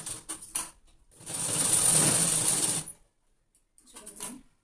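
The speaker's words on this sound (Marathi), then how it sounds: "आता मी टक्स मारून घेते मापाचे." A sewing machine stitches tucks into a child's petticoat and blouse, with a few short stuttering bursts, a steady run of close, loud mechanical whirring for about two seconds, then a brief final burst.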